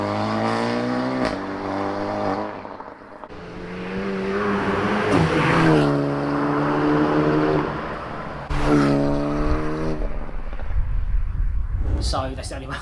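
A Renault Megane RS Trophy with a mid-pipe resonator in its exhaust is driven hard, the engine note climbing through several gears with clear drops at each shift, loud and close.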